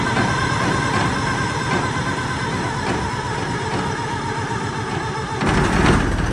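An International 230 swather engine cranks and catches, running with a steady rough mechanical drone that swells louder in the final second, close by with no talk.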